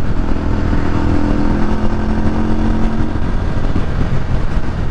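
A Benda 500 Napoléon cruiser motorcycle rides along with a loud, close, steady engine drone and a pulsing low rumble, wind and road noise running throughout.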